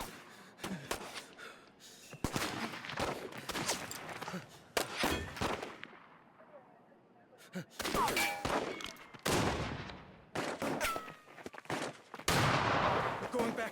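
Sniper and other gunfire ring out in the As Dusk Falls video game, with sharp, loud cracks fired in irregular bursts and clusters. A short quieter gap falls midway, and voices are heard between the shots.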